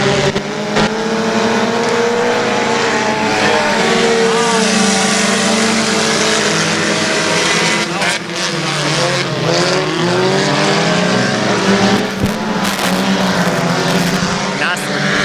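Race cars roaring around the Boothill Speedway dirt track, a loud continuous engine drone with passing whines and rising pitch sweeps, an announcer talking over it throughout.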